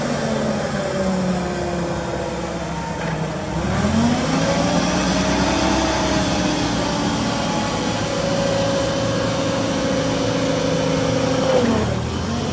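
A 2002 Cat GC25K 5,000-pound cushion tire forklift engine runs steadily and loudly up close, its hum rising in pitch and revving midway before settling, with no talking.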